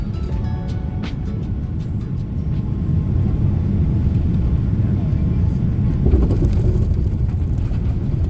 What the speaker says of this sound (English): We have just touched down at Harbin Taiping International Airport.